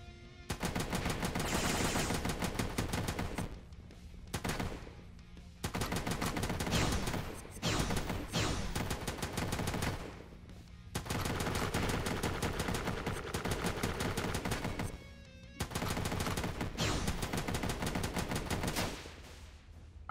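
Rapid gunfire from a gun in the game Dungreed, loud dense bursts of several seconds each separated by short pauses, with no talking over them.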